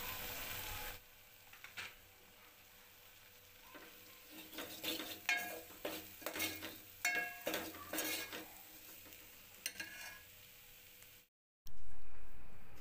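Masala with turmeric and garam masala frying in oil, a low sizzle broken by a run of scraping spoon strokes and clinks against the pan, then a brief silence and a loud burst of noise at the end.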